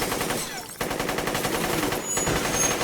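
Rapid automatic gunfire in S.T.A.L.K.E.R. Shadow of Chornobyl Enhanced Edition rattles continuously and loudly, with only brief dips between bursts.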